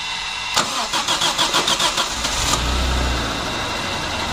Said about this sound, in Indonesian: coba di starter mas